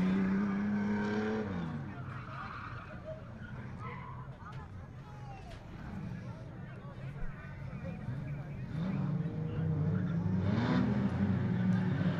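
Production race cars racing at Riverside Speedway, engines revving and rising and falling as they circle the track, with tyre skids, under a commentator talking over a public address.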